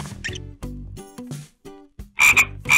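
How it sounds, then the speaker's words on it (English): A frog croaks by a pond in a series of loud, close, rasping calls with short gaps between them, the last few the strongest. "Suddenly a frog appeared rushing up from the bottom of the pond."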